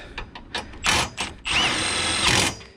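Power tool tightening bracket bolts during a supercharger install on a Mustang GT, with short whirring bursts followed by a longer sustained run, close and fairly loud, with no talking.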